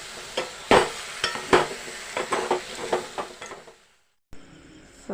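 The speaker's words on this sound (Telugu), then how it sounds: "బెండకాయలు కూడా వేసేసి మంచిగా ఫ్రై చేసేసాను" Okra fries in a pan with tomato, onion and spices as a utensil stirs through it, giving a run of scraping, clattering strokes over a soft sizzle before a short silence and a faint return of the frying.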